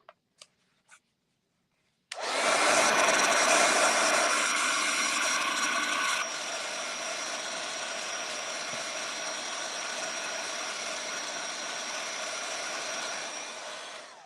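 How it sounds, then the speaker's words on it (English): A heat gun dries oxides on shrink plastic keychains, a loud steady blowing roar that starts abruptly after a few faint taps and drops slightly in level partway, continuing alone without talk. "Now I'm going to use my heat gun and I'm going to dry this"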